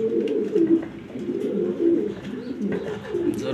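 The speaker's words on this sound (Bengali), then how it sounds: "কত সুন্দর বিগ সাইজের একটা মাদি কবুতর" Low, throaty cooing from a large female pigeon repeats in a steady series of close rolling calls over a faint background hum.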